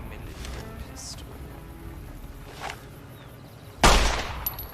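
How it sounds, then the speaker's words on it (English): 9mm pistol gunshots in Fallout: New Vegas: faint menu clicks and quiet background, then one sharp loud pistol shot near the end with a brief decaying tail. "9mm pistol."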